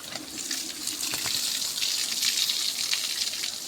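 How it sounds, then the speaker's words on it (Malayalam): A stream of water is sprayed over a muddy dog, a continuous hissing gush with small shifts in intensity, fairly soft and without voices. "ലൂണയുടെ മേലേക്ക് ഫുള്ളായിട്ട് വെള്ളം അടിച്ചു വിടാം."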